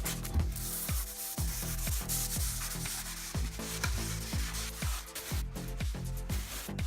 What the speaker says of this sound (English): I'm also going to take a minute and scrape all the old caulk off the floor.